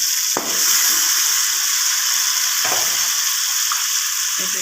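A small onion hits hot oil for a Pakistani dum aloo dish, giving a steady, loud sizzle of frying with a few faint clinks of utensils, no voice heard.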